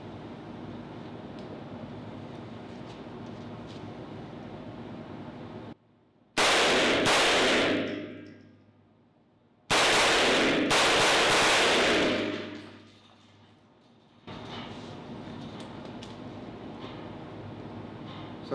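Two loud bursts of rifle fire from an HTA DigiTrigger 2.2 binary trigger, each a rapid shot pair that rings out and decays, set apart by several seconds of steady background noise.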